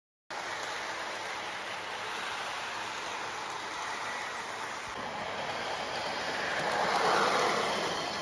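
A vintage model toy train runs along its track at an estate sale find, giving a steady, fairly loud whirring rumble that continues unbroken and swells slightly near the end.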